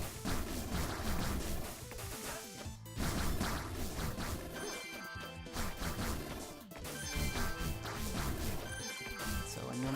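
Ice beam icicles shattering in the retro-style platformer 20XX, repeated crunchy smash and crash hits in quick succession over dense, continuous game music and effects, loud throughout with brief dips.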